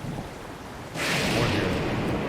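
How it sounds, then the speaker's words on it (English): Steady rain from the video game Zelda: Breath of the Wild sweeps in abruptly as a loud broadband hiss and patter, replacing quieter ambience and continuing without a break. "This area is just always gonna rain"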